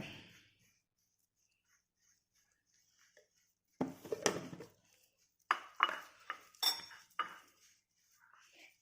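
Ginger garlic paste being mixed in a pot for chicken biryani, heard as a few scattered metallic clinks and scrapes of a spoon against the pot after a quiet stretch, fairly soft and spaced apart.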